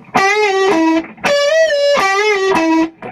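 Overdriven electric guitar playing a solo lick, opening with a pre-bend to E; two sustained phrases of bent, slightly wavering notes with sharp picked attacks and a brief gap between, loud and close with no talk.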